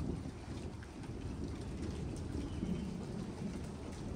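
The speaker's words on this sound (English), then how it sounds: "Just big raindrops." Heavy rain from a severe thunderstorm pours down in big drops, a dense, steady patter with a low rumble underneath and no voices.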